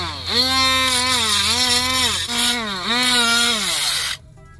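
A power sander grinding hardened iron glue, a loud steady whine whose pitch dips and rises repeatedly as pressure shifts, close up, then cutting off abruptly near the end.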